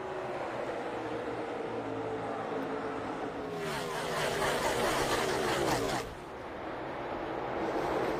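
NASCAR stock cars at the 2021 Quaker State 400, a steady engine roar with a louder surge as a pack passes close for a couple of seconds before easing back to a broad drone.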